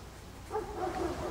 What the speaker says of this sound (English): So here it is, the calling of the Wotan dogs.